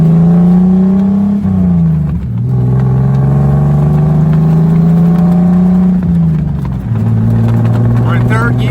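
A Jeep Wrangler converted into a Hummer H2 drives down the road, its engine droning steadily and loud up close, pitch climbing through each gear with brief dips at the shifts.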